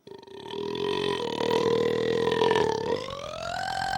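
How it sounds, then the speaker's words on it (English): One long, loud, drawn-out burp that holds a steady pitch for about four seconds and then slides upward near the end. "right now I'm gonna go for another restaurant record. Longest burp."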